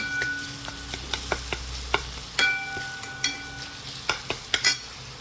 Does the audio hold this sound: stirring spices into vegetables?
yes